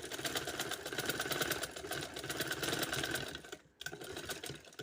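A sewing machine stitching lace onto a dupatta, its needle chattering in a fast, steady mechanical rhythm close by, briefly stopping near the end before starting up again.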